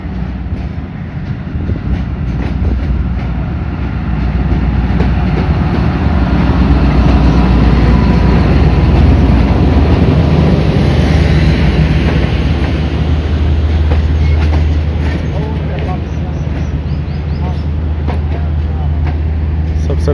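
A freight train led by a Rais Logistics locomotive rolls through Gujarat railway station, a steady loud rumble of wheels and wagons passing close by for the full stretch with no pause.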